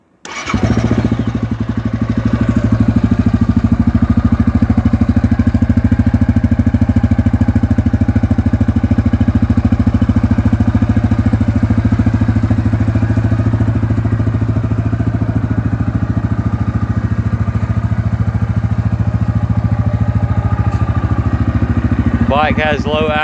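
A lifted Yamaha Grizzly 550 ATV with stock exhaust and an aftermarket tip starts up and runs at a steady, loud idle close by, a low rumbling drone lasting the whole stretch with a faint clatter near the end.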